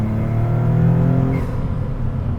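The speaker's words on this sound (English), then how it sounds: "the tuner kid in me loves that turbo blow-off valve" A 2024 Maserati MC20 Cielo turbocharged engine revs loudly, then its blow-off valve releases with a brief whoosh partway through as the engine note drops away.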